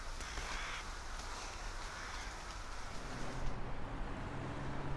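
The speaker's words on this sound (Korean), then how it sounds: "떼까마귀는 대숲의 잎부분에 잠자리를 마련합니다." A large flock of rooks caws continuously while settling into a bamboo grove roost in Ulsan, a dense, overlapping chorus of harsh calls over a low background rumble.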